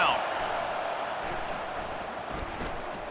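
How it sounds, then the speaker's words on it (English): A college football video game stadium crowd swells into a steady, loud roar of cheering on third down, a continuous wash of noise with a commentator talking over it. "Decibels rising as the crowd gets behind this defense on 3rd down"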